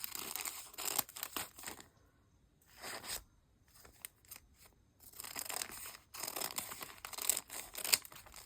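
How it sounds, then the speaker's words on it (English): Scissors cut through a bag in quick, close snips and crinkly rustles, come in several separate bursts with short quiet pauses between them, and no one speaks. "I'm going to cut this bag."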